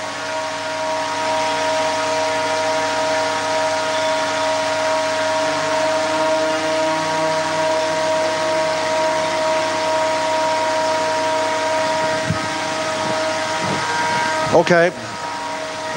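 The big motor of the Alexanderson alternator at SAQ Grimeton, a longwave radio station, runs with a steady loud mechanical hum and whine, while a person speaks briefly near the end.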